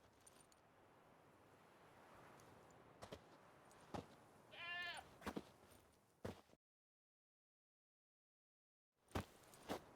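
A goat tied to a stake as forktail bait in The Witcher 3 gives a single wavering, stuttering bleat over quiet outdoor ambience, with a few sharp clicks scattered around it and a brief silent gap.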